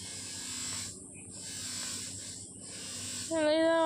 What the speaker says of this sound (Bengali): ভাই এটা এখানে পাশে মেশিনে কাজ চলছে, তার জন্য ক্ষমা চাইছি এই আওয়াজটার জন্য।